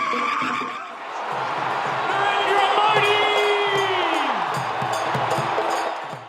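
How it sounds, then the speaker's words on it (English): A large arena crowd of thousands cheers and roars for India's Prime Minister Modi at a community event in Australia, a sustained swell of voices with a whistle-like sweep rising over the din. "The crowds cheered for the Indian Prime Minister"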